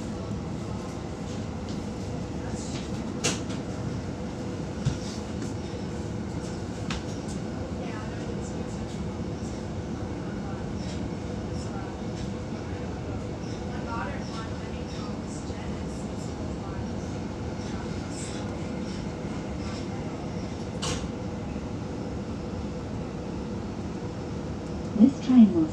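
Steady low rumble and rattling of a suburban passenger train approaching Fairy Meadow station, continuous and even throughout, heard from inside the carriage with faint clicks near the end.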